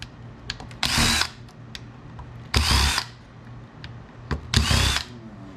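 A power drill with a T7/T8 bit backs screws out of scrap computers in three short whirring bursts. Faint clicks and handling sounds fall between the bursts.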